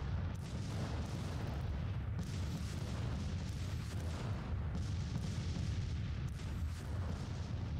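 Artillery fire in the Civil War strategy game Grand Tactician, a steady rumble of distant booming cannon shots with several heavier thuds spaced irregularly throughout, moderately loud with no talk.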